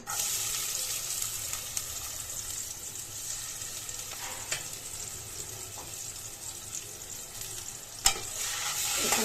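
Ground spice paste frying in oil in a pot for pulao, a continuous soft sizzle with occasional stirring clicks and one sharp knock near the end, no speech.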